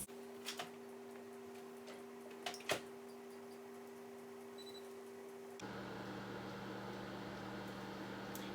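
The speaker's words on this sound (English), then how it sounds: "we'll place these in the microwave for 3 minutes" A microwave oven runs with a steady low hum while steaming covered vegetables, a few faint ticks and clicks near the start, and the hum shifts to a louder, rougher drone partway through.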